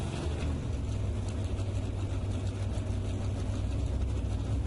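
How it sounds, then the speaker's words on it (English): A Mountain Motor Pro Stock drag car powered by a big Ford engine roars down the racetrack, a steady dense engine drone heard from a distance, with the gear changes blurred into the continuous rumble. "You can hear the gear changes being made"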